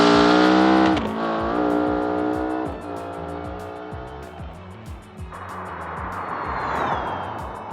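A BeamNG Autobell Piccolina drag car makes a full-throttle pass, its engine screaming loud and close with repeated sharp gear-shift dips, then dropping to a rougher, noisy roar as it runs on.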